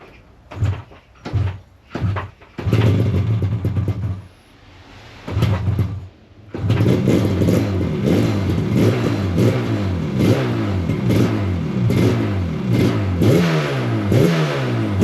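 A rebuilt Yamaha RD350LC two-stroke motorcycle is kicked over in a few short attempts, then fires and settles into a loud, rapid, crackling idle with rhythmic blips of revving close by.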